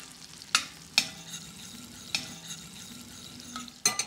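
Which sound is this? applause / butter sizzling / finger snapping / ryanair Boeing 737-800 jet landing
butter sizzling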